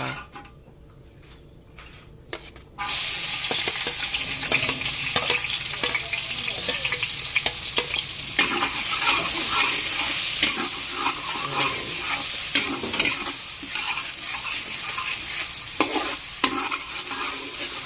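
Ginger fries in hot oil for chicken arroz caldo: after a quiet start, a loud, sudden sizzle bursts up and keeps hissing steadily, broken by clinks and scraping of stirring.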